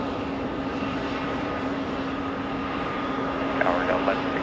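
An airliner arriving at JFK airport produces a steady, moderately loud engine drone throughout, with a brief burst of speech near the end.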